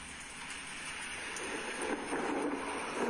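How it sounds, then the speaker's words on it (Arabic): Ready-made rain and thunder sound effect laid over footage: a steady, close hiss of rainfall that swells slightly toward the end, with a low rumble underneath and no voices. "وأختار صوت جاهز لصوت المطر والرعد"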